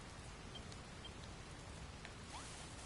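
Quiet, steady patter of rain falling in the Dragon Quest Builders 2 video game, an even hiss of drops throughout with no music or voices.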